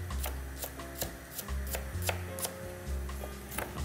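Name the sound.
chopping onion for cannelloni filling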